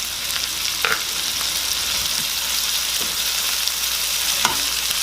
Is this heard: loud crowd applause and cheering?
no